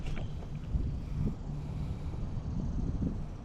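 Wind buffets a homemade sailboat out on the water, a steady low rumble of gusts over the microphone with faint water and hull noise underneath, no voices.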